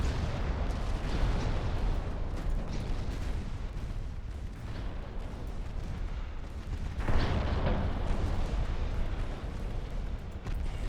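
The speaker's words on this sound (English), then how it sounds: "the destroyer is about to shoot again" Naval guns boom in a warship battle game, with a destroyer and a heavy cruiser exchanging fire. The deep, rumbling blasts roll out and sustain at a moderate level, and one louder report lands near the seven-second mark.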